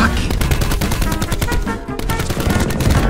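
Rapid automatic gunfire in a shooter video game, one of Fortnite, Rainbow Six Siege or Apex Legends: loud, close, nearly continuous bursts of shots with only a brief dip midway.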